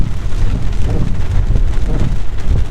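Heavy rain pours down steadily, a dense, loud, close hiss and patter with low rumbling underneath, continuous and without voices.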